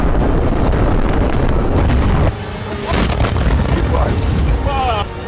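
Explosions from a drone attack on an oil depot, heavy rumbling booms and blasts that roll continuously, dip briefly, then resume, with distant shouting voices mixed in.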